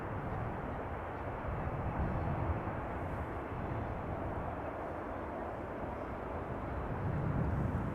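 KLM flight 592 from Johannesburg arriving at Amsterdam Schiphol Airport, a steady broad jet roar from the airliner holding constant and loud throughout, no voices.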